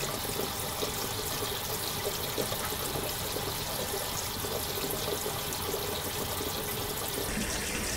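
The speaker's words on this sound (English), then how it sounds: "the cold water coming out of your faucet might not be cold enough." Cold water runs steadily from a kitchen faucet in summer heat, a constant splashing rush that holds at an even level for several seconds with no voices.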